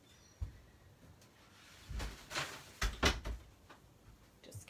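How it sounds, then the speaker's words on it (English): A door is closed in a home craft room, with several soft knocks and rattles building to a couple of firmer thuds near the middle, fairly quiet and close, with no talk. "Just going to close my door"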